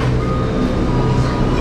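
KRL commuter train at Duri transit station in Jakarta, a steady rumbling drone with a low hum throughout, close and fairly loud, with no voices.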